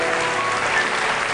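A studio audience at an Italian television interview show bursts into dense, sustained applause, loud and even throughout the brief moment.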